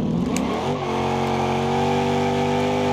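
A V8 supercharged drift car engine in BeamNG.Drive revs hard and loud, climbing, then settling into a sustained high-pitched whine that stays steady, with no voices over it.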